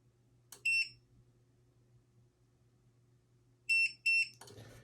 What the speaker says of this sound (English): when you press it for 3 seconds, you're going to hear 2 beeps